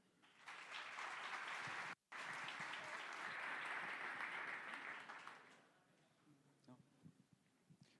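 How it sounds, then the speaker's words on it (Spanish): Audience applause for people being introduced, a dense burst of clapping that runs for about five seconds with a short break, then fades to scattered claps and light room noise. "Un aplauso."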